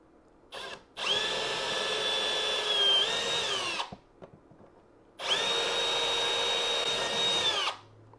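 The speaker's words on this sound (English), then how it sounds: "we're going to drill out these holes" A Milwaukee M12 FUEL cordless drill with a titanium bit bores holes in a plastic toy. It whirs in two loud sustained bursts of about three seconds each, close by, with a short click before the first and a brief pause between.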